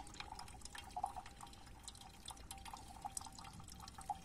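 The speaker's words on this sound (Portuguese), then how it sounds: "Olha o barulhinho. Nossa, água geladinha." Cold water dripping from a damp rock outdoors, a steady scatter of close, bright drops falling at an irregular rhythm over a soft trickling background, with no talk.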